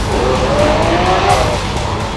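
A 2012 Lamborghini Aventador sports car turning in sharply, its loud engine droning steadily with a faint tire squeal as it corners close by, no voices over it.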